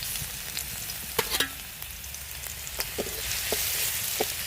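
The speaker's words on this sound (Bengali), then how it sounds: "কড়াই আমি তেল গরম হয়ে গেছে, সর্ষের তেল দিয়েছি। এবারে দেবো রসুন" Garlic sizzling in hot mustard oil in a wok, a close, steady frying hiss broken by sharp crackles and pops at irregular intervals.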